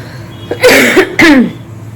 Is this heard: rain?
no